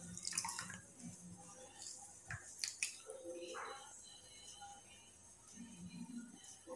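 Water drips and splatters softly as a thread-tied cotton cloth, soaked during turmeric tie-dyeing, is wrung out by hand, with faint squelches, scattered drops and a few small clicks, quiet and close.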